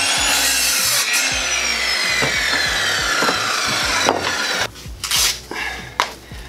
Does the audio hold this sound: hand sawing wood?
yes